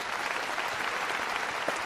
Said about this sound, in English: Round of applause for Quebec